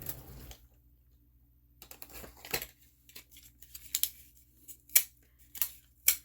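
A roll of low-tack Scotch tape is handled at a crafting desk: a brief rustle, a pause, then a series of short crisp clicks and tearing snaps at irregular intervals, close and quiet with no voices.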